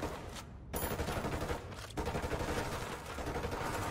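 Sustained automatic gunfire from a squad firefight in the tactical shooter Ghost Recon Wildlands, loud, dense bursts with brief pauses, continuous throughout with no talk.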